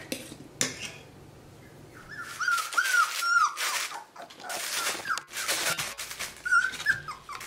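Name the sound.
four-week-old AussieDoodle puppies whining and barking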